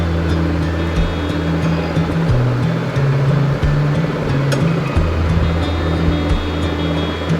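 A passenger launch departs a riverside ghat on the route from Dhaka to Chandpur, its engine a steady low drone with a deep throb and constant water wash, close and loud throughout.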